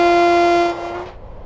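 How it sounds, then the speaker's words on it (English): A Midland Mainline train horn in Train Sim World 5, an EMT class 158 unit, gives one loud, steady two-tone blast for about 0.7 seconds, then dies away abruptly with a brief echoing tail. "when honking for level crossings, you should only use the low tone"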